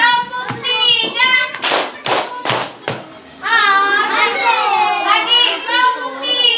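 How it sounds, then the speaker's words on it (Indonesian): Schoolchildren clap in unison in a short rhythmic burst of three or four sharp claps, close and loud, set between stretches of an adult and children talking and chanting. "Lagi tepuk tiga"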